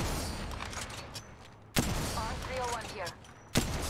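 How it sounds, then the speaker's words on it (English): Gunfire from an R-301 rifle in the mobile shooter Apex Legends Mobile, with sharp loud shot bursts at intervals over a busy game soundscape and a synthetic announcer-style voice. "Taking fire. Firing. Enemy down. Opening fire."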